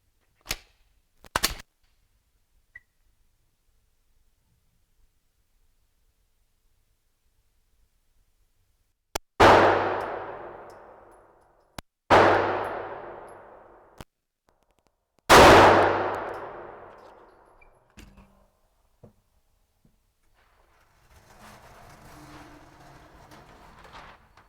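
Sharp, isolated pistol-type gunshots at an outdoor range while zeroing a red dot sight. Several widely spaced loud cracks each ring out and decay, separated by quiet pauses.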